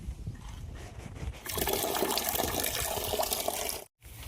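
Water runs from a village tap into a basin for cattle to drink, a steady splashing flow that starts loud after a softer opening and cuts off briefly near the end.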